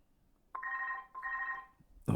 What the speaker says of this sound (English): Oh, it's the phone again.